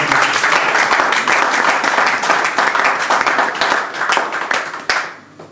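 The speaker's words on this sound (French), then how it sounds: "Est-ce qu'on peut acclamer?" A church congregation claps and applauds together, a dense, steady wash of many hands that carries on for several seconds before it tapers off abruptly.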